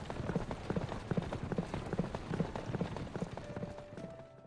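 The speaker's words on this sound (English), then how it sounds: "I wonder how high is the speed limit for a horse?" Horse hooves clip-clop in a steady galloping rhythm in the Fate/Grand Order video game, moderately quiet and even, with a faint tone entering near the end.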